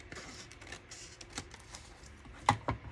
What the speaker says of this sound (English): The edge is rough. I need to cut that.